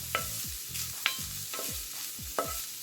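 Ham pieces browning in a frying pan, a soft sizzle running under three or four distinct scraping stirs of a utensil against the pan, close and fairly quiet, with no voices.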